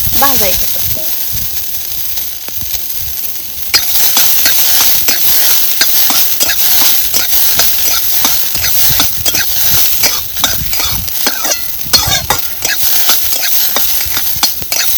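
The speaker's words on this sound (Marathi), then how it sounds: "सराट भाजताना मात्र तेल नाही वाचायचं त्याला डाग पडस्तोवरच भाजून घ्यायचंय आपल्याला" Sarata (Tribulus) greens roasting in oil in a pan give a steady crackling sizzle with sharp pops and occasional stirring scrapes, close and loud throughout.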